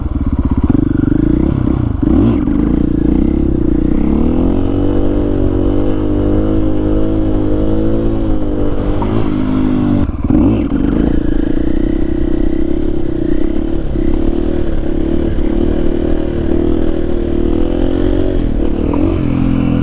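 An XR80 pit bike engine fitted with a KTM power bundle revs loudly and close up. Its buzzing, raspy drone climbs and drops through repeated throttle blips, with no pause.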